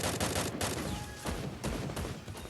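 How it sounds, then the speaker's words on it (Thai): Dense, continuous bursts of AK rifle fire in the Garena Free Fire video game, rapid overlapping shots loud and close with no pause across the whole stretch. "เอเค ยิงผม"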